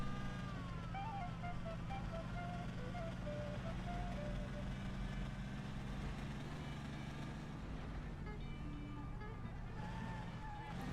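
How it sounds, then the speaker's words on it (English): A car drives in the video game Mafia, its engine a steady hum with shifting pitch as it travels toward a bar, an even drone under faint game sounds. "We're driving back to Salieri's bar."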